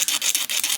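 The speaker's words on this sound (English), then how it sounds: "I'm going to scrape off the old glue here" Old glue scraped off a binding strip on a Martin M 38 guitar during restoration, a quick series of rough, rhythmic rasping strokes, close and dry, with no voices.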